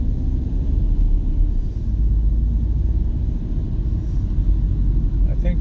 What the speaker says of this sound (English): It's very extremely heavy traffic.